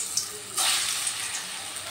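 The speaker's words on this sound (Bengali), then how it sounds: "এবার আমি যে মিশ্রণটা বানিয়ে রেখেছিলাম সেই মিশ্রণটা নিয়ে অল্প অল্প করে তেলের মধ্যে দিয়ে দেব।" Spoonfuls of cauliflower kofta mixture drop into hot oil, which bursts into a loud, steady sizzle that swells sharply partway through and keeps crackling evenly to the end, with no voices.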